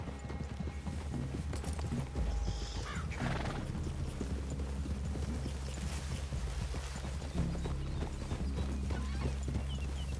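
Horses in the Red Dead Redemption 2 video game clip-clop steadily as they walk, with a whinny rising partway through, all over a continuous outdoor ambient bed with no talking.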